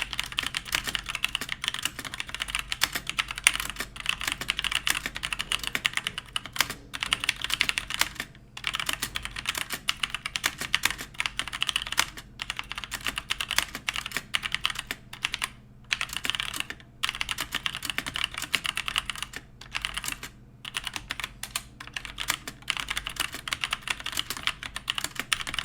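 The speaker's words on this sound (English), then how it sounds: "first up we have the Drevo Gramr keyboard" Steady fast typing on a Drevo Gramr mechanical keyboard, a dense run of close, crisp key clacks with brief pauses, no voices.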